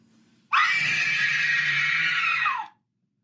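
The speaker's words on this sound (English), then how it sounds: "Third sound will be that scream." A loud synthetic scream from a haunted house prop speaker, a single sustained shriek of about two seconds that starts abruptly and ends with a falling tail.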